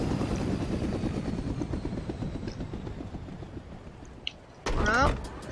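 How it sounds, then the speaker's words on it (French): Helicopter in the Fortnite video game, a steady rotor drone with rhythmic chopping throughout, close and fairly loud, ending with a brief louder burst. "Comme ça on a un hélico tout neuf."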